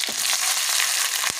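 Dried red chillies and curry leaves hitting hot oil, a brief, bright, close crackling sizzle with a couple of sharp pops and no talking.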